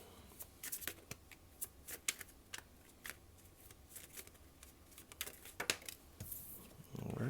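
Soft riffling and snapping of tarot cards being shuffled and drawn close up, in irregular quick bursts with brief pauses, quiet, ending with a louder rustle.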